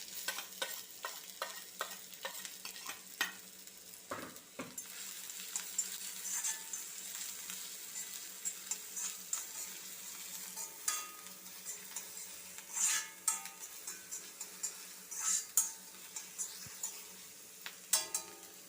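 Onions, green chillies and curry leaves sauté in a pan with a steady soft sizzle, broken by repeated scraping taps of a spoon stirring against the metal, close up with no talking.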